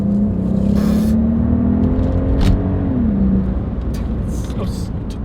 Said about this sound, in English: the sense of how fast this car accelerates